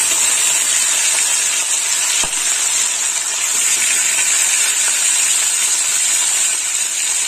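Four pieces of rohu fish fry in hot oil, giving a loud, close, continuous sizzling hiss that stays steady throughout, broken only by one brief click near the middle.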